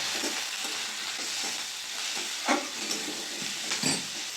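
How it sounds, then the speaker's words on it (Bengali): Masala with turmeric, chopped tomato, salt and sugar sizzles and fries in a pan for egg tadka, a steady hiss broken by a few louder stirring scrapes. "মশলাটা ভালো করে সব কষিয়ে নেব।"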